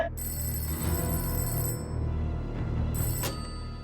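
A phone rings steadily with a bright, repeating electronic ringtone, loud and close, sounding alone without talk.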